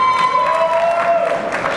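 An audience claps steadily at a high school theater awards ceremony, a dense, even patter of applause throughout with some cheering mixed in.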